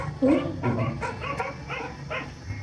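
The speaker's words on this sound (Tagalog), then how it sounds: "grabe yung aking mga aso" Several dogs bark and yip in short, irregular bursts at moderate distance, fairly faint, with some whimpering between barks.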